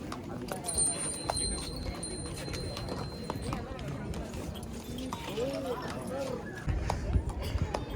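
Horse hooves clip-clop on a busy hill-town street in Shimla, a steady run of close hoof beats under constant crowd chatter and nearby talking.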